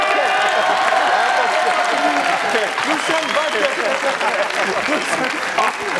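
Applause from the audience in a TV studio, a dense, steady clapping that carries through the whole stretch while someone speaks over it.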